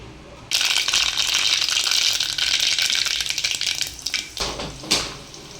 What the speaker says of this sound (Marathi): जिरं मोहरी मस्त तडतडली आहे, तेल मस्त तापलं होतं.